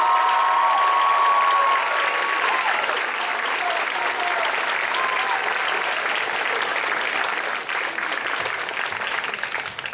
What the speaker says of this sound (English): How about another round of applause for these musicians?